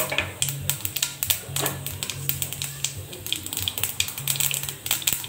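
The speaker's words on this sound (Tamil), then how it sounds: "கடுகு பொரியட்டு." Mustard seeds with a little salt splutter in hot oil in a pan, giving off rapid, irregular sharp pops and crackles that come in quick bursts, close and moderately quiet.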